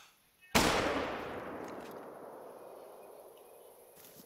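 A huntsman rifle fires in the hunting video game theHunter: Call of the Wild, a single sharp report followed by a long echoing tail that slowly fades, with no speech.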